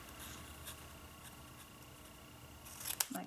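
Scissors snip through paper being trimmed into vintage-style postage stamps, a couple of short, quiet cuts near the end after a stretch of low room hiss.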